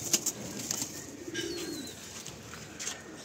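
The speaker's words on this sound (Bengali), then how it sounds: "এটা হচ্ছে আমার সেই কটাসি লাইনের পায়রা বাচ্চা" Young pigeons of a fancy breed softly coo in a close, low murmuring rumble, with faint bird chirps and rustling around them.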